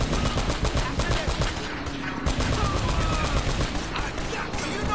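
Rapid turret gunfire in the video game Uncharted: Drake's Fortune, a loud dense chattering burst running almost continuously with brief gaps, over game noise and engine rumble.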